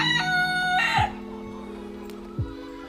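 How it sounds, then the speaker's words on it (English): Chickens in a coop with a rooster's crow at the start, followed by low clucks and soft squawks nearby, with the birds eating their feed. "Chickens."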